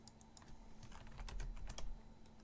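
Quick bursts of typing on a computer keyboard while setting up a stream overlay, a run of light, irregular key clicks heard close and fairly quiet over a low steady hum.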